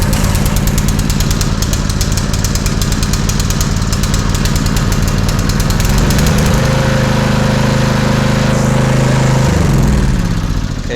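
A Honda GX160 small single-cylinder generator engine runs loud and close with a rapid pulsing drone, its tone shifting partway through as it settles into a steadier, lower run.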